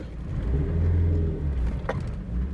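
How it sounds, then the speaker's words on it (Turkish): A Toyota Corolla straining to pull away on a slope after a clutch pressure plate replacement, its engine giving a heavy low rumble that swells and sags under load, close and steady with no talking. "Bakın neredeyse kalkış yapamıyor araba."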